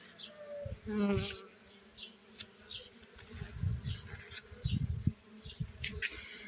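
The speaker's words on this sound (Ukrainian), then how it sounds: "Бджоли працюють." Bees buzz while pollinating blooms in a garden, their faint, intermittent drones rising and fading as individual insects fly close past, with a few soft low rumbles in the background.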